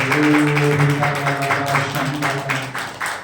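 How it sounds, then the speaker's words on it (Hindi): Congregation at a church service clapping hands in praise: rhythmic, steady claps repeating across the clip over a sustained musical or vocal drone. "ताली बजा के प्रभु के नाम की तारीफ"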